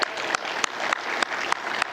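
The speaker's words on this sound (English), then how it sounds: "Please clap for that." Audience applause at a literature festival hosted by an army wives' welfare association, a continuous crowd clapping with regular sharp accents roughly every third of a second, steady and fairly loud.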